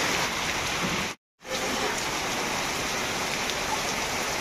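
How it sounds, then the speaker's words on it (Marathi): Sudden heavy unseasonal downpour in the Konkan countryside, falling on mango orchards and leaving water everywhere; a steady, dense roar of rain fills the scene, broken by one brief moment of silence. "पूर्ण जोरात पाऊस पडलेला इकडे ते बघा, पूर्ण पाणीच पाणी."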